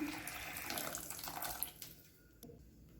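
Water poured into a thick tomato masala in a home kitchen, a short splashing pour that runs for about two seconds and then stops, leaving a quiet tail with a small clink.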